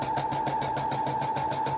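Sewing machine stitching a tote bag, a steady fast rhythmic whirr of needle strokes running continuously at close range with no pauses.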